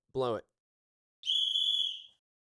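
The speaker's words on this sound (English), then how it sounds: "Well, I've got a whistle handy. Blow it." A handheld whistle gives one sharp, shrill blast of nearly a second after a brief vocal sound, then silence.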